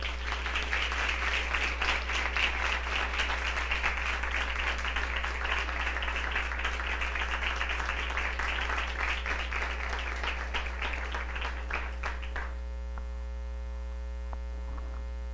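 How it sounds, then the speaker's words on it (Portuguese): Applause from a church congregation during Mass, a dense wash of clapping that carries on steadily for about twelve seconds before stopping abruptly, leaving a low electrical hum behind. "uma salva de palmas"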